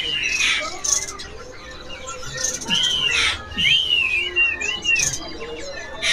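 A songbird sings at a bird shop kiosk, loud clear whistled phrases and sweeping notes repeated in bursts, with people talking nearby.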